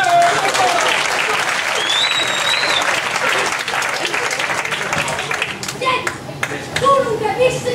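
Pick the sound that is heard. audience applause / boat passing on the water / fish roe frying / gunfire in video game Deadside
audience applause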